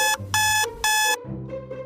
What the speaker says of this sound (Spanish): maldita alarma barata que siempre me despierta a estas horas